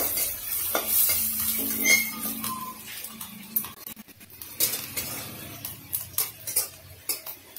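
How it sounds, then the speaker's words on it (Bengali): Onions sizzle steadily in a hot pan while a utensil stirs and scrapes, with occasional metallic clinks against the pan. "পেঁয়াজটাকে একটু ভালো করে ভেজে নেব"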